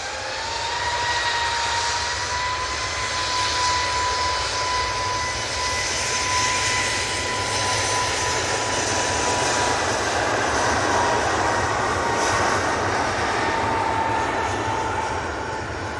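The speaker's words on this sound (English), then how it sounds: "Beautiful Max 8." A Boeing 737 Max 8 airliner at Manchester Airport gives a sustained jet engine roar with a faint whining tone, staying fairly loud and steady for the whole stretch.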